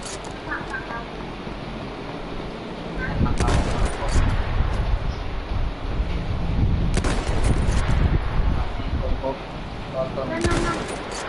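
Gunfire in a PS4 shooter video game, bursts of rapid automatic shots that start quietly and grow louder and denser, with people talking over the action.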